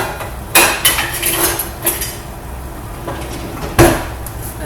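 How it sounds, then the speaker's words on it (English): A metal spoon knocks and scrapes in a pan of cooking potatoes, a few sharp clanks spaced irregularly over a low hiss of stove-top sizzle. "I'm gonna use this tool for now,"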